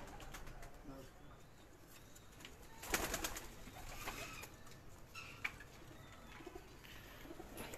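Pigeons coo softly on a rooftop in Mansoorabad, faint and somewhat distant, over a low hiss of outdoor background noise, with a brief louder rustle near the middle.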